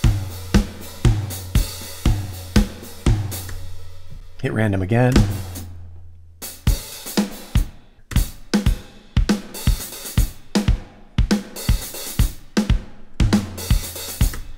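A drum pattern from the Handy Drums plugin by Gorham Grooves, driven by MIDI generated in Playbeat 4, plays punchy kicks and snares in a steady groove, pauses briefly while someone speaks, then resumes with a new randomized pattern.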